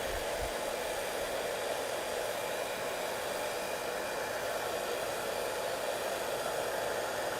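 A hair dryer blows steadily and at close range over wet watercolor paint to dry the puddled spots, a constant broadband whoosh holding at one level from start to finish with no voices.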